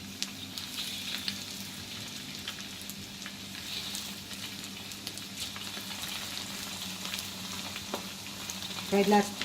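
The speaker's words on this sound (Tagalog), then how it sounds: "mainit na yung ating oil. Lagay na natin yung chicken, isa-isa." Flour-coated chicken pieces sizzle steadily in hot oil in a large wok, a dense, even crackle that holds throughout, with a brief clatter of utensils near the end.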